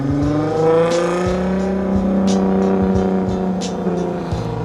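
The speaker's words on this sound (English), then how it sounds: "That sounds like a 5-cylinder in there." At a VW and Audi meet, a five-cylinder car engine drones and revs with rising and falling tones, loud and nearby, with no talking.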